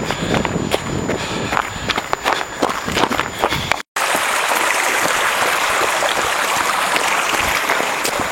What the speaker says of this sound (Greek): Σαν να έχει υπόγεια νερά είναι εδώ.